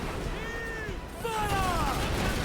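Ship cannons boom in a naval battle in Assassin's Creed IV: Black Flag, a loud rumbling blast swelling midway under shouting voices and a dense noisy din.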